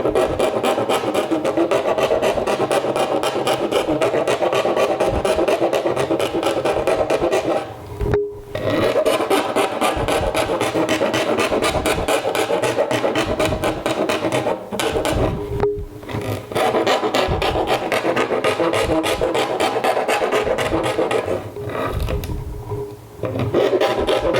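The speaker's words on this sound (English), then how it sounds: "I already know that the hole is a little bit too little, so I'll go file." Hand filing widens a drilled hole in a plastic water filter bucket, a steady loud rasping of repeated strokes that runs almost unbroken, pausing briefly twice.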